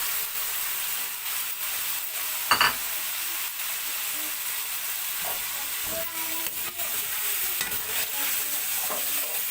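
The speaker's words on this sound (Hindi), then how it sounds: "ये इसकी 2-3 मिनट तक भुनाई करते हैं" Onions with ginger-garlic paste sizzle and hiss steadily in a pan for chicken malai handi, with occasional scraping stirs and a few metallic clinks, heard close up and without talk.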